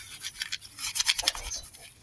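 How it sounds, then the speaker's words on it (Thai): Herb leaves are crushed and squeezed by hand to make a natural mosquito repellent, giving soft, close, irregular scratchy rustles and squelches that come in quick bursts without talk. "ขยำแบบนี้ครับ"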